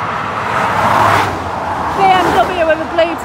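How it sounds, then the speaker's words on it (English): A BMW with blue tinted windows passes by on a road, a broadband swelling whoosh that peaks midway and fades, with faint traffic noise and a voice speaking quietly in the background. "BMW with a blue tinted window, that was quite nice."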